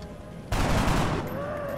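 A single loud gunshot from a soldier's weapon in the turn-based tactics game XCOM: Enemy Within, a sudden blast that rings out for under a second before fading into the quiet game ambience.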